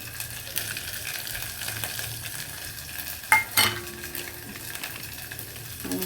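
Fish masala with turmeric and salt frying in a pan for a Malvani fish curry, a steady soft sizzle with scraping stir strokes and a couple of sharper clinks midway, close by with no talking.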